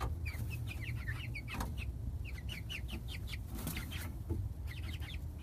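Ten-week-old chickens on their first full day outside give repeated short clucks in loose bursts, fairly faint against a steady outdoor background hiss.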